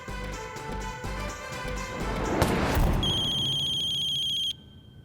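A mobile phone rings with a melodic electronic tone in a Hindi TV drama scene, loud and close. Musical swells and a crash-like sting overlap it before a steady tone cuts off abruptly.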